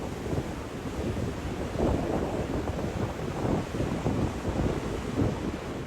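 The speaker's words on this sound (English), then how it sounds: "Massive waves smash into Porthcall's harbor wall during a brutal Welsh storm." Massive storm waves smash into a harbour wall at Porthcawl during a brutal Welsh storm, heard as a loud, continuous roar of surf and heavy wind buffeting the microphone, with surges swelling every second or so.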